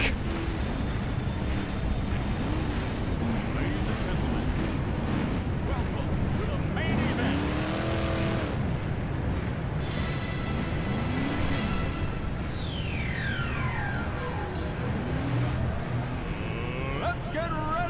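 Engines of 24 F1 stock cars roar and rumble together in an oval race, with harmonic whines sweeping up and down as they pass, under crowd noise and an announcer's voice.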